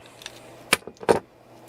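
An adjustable wrench works loose a part on an Artillery Sidewinder X1 3D printer, giving two sharp close metallic clinks and rattles with no talk.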